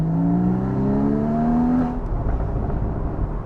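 A Porsche 981 Boxster GTS flat-six revving hard, rising engine tones climbing close and loud for nearly two seconds before easing off into a rougher, lower rumble.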